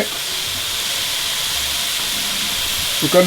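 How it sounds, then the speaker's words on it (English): Pork tenderloin sears in a hot pan with a steady, close hiss and sizzle that runs throughout, with a faint clatter near the end. "meanwhile our pork is searing off"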